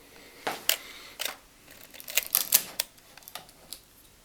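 The film advance lever on a Canon AV-1 film camera is worked through several times, giving a string of crisp close mechanical clicks and ratcheting snaps with short gaps between them.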